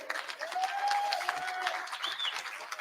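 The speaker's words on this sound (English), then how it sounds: "Clap it if you feel it" Clapping from the audience at a conference gathering, a brief, modest round of applause heard from a distance with a faint whistle-like tone running through it.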